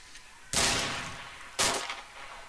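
Two loud, sharp rifle shots in a video game ring out about a second apart, each with a broad crack and a decaying tail over quiet background.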